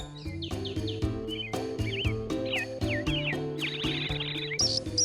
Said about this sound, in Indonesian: di pasar, di area penjual burung, Yusuf membeli sepasang merpati ditemani Maria